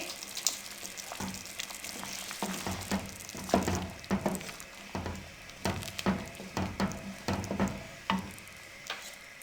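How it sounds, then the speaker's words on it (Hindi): Ingredients being mixed in a frying pan for a Maggi noodle soup, with repeated scraping stir strokes in an uneven rhythm over a steady low sizzle, close by with no talk. "अब इनको हम अच्छे से मिक्स कर लेंगे।"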